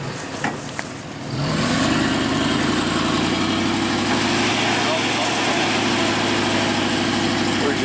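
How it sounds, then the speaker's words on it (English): A stuck truck at deer camp revs hard and steadily, its engine droning loud and close as the wheels spin in place for several seconds after a brief quieter start. "We're just spinning them wheels."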